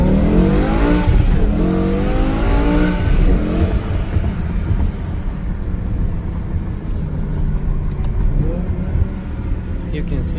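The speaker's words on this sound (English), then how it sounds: "So far the car is running really good" A BMW E60 M5 with the S85 engine on new tires, accelerating with a rising engine note early on, then settling into steady driving and road noise.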